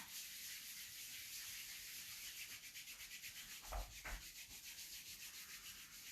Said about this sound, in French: Je frotte le genou.